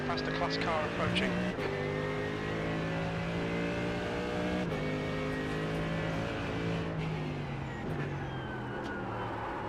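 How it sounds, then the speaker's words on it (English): Sim racing car engine droning steadily and close throughout, with layered harmonic tones of several cars as a faster class race car approaches; a voice talks briefly over the engines. "There's a faster class car approaching."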